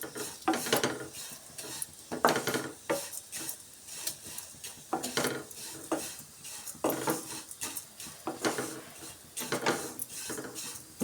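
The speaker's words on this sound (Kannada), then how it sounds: "ಕಡಿಮೆ ಉರಿ ಇಟ್ಕೊಂಡು ನಾವು ಶಾವಿಗೆನ ಹುರ್ಕೊಬೇಕು" Vermicelli is roasted over a low flame and stirred in a pan for shavige payasa, a spoon scraping and clinking against the metal in repeated uneven strokes, close and fairly quiet, with a faint sizzle beneath.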